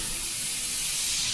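A paint spray gun blows a steady, close, continuous airy hiss of atomized paint for about a second and a half.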